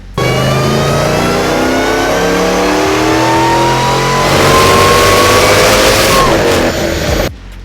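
A boosted Jeep making about 965 all-wheel horsepower revs hard on an all-wheel dyno, its engine pitch climbing loudly through the run before cutting off abruptly.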